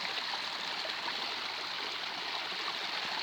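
Floodwater running along a roadside channel into farmland on the island of Rhodes after a day of winter rain and thunderstorms, a steady, loud, continuous rushing flow close by with no pauses.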